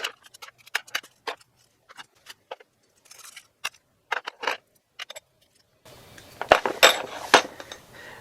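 Small metal parts from a Mikuni carburettor on a pit bike clink and tick sharply while it is stripped down, scattered taps coming close and alone, followed by a louder burst of rattling handling noise.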